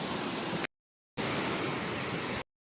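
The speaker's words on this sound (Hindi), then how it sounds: "यहाँ पे भी पानी का फोर्स बहुत ही ज़्यादा है" A strong river current rushes near a bridge by a waterfall in Karbi Anglong, a steady broadband roar cut into two bursts separated by silence, with no voices.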